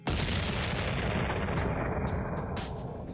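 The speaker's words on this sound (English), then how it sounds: "We can only imagine the deafening man-made thunder of the mass cannons opening fire on the massive" Cannons firing during the siege of Harfleur form a loud, dense, continuous barrage of booms and blasts, the volleys blending into one thunderous roar across the whole stretch.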